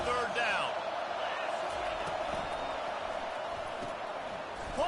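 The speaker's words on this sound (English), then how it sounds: "Decibels rising as the crowd gets behind this defense on third down." Stadium crowd roaring steadily at a college football game between Arkansas and Penn State as the defense lines up on third down, a dense, sustained wall of cheering with a broadcast voice faintly under it.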